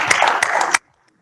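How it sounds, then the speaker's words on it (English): An audience applauds award winners at an innovation awards ceremony, a dense burst of clapping that stops abruptly into silence. "Let's have a big round of applause for them."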